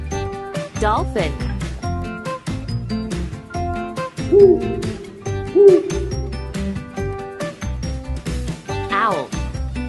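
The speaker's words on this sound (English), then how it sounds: "Owl." An owl gives two short, mellow hoots about a second apart, fairly faint under continuous background music.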